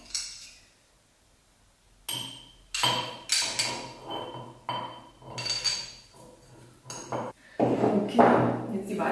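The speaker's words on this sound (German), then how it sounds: "Und jetzt kommt noch der Kurkuma." Ground turmeric goes into a bowl of grated ginger, with a series of close clinks and taps of a spoon or utensil against the bowl in an irregular rhythm after a quiet start.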